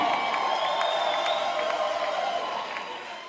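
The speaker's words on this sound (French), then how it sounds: "On applaudit encore très fort une fois de plus pour Princesse Betou de Mbuji-Mayi" A crowd at a campaign event in Mbuji-Mayi applauds and cheers for a candidate, steady dense clapping with whoops close by for the whole stretch, easing slightly near the end.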